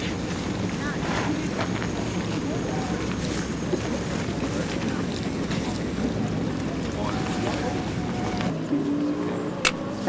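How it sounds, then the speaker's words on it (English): Jet boat engine on New Zealand's Dart River, a steady loud motor roar with heavy wind buffeting throughout, water rushing beneath, and voices faintly mixed in. "rip up that motor"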